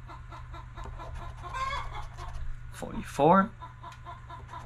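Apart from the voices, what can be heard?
chicken clucking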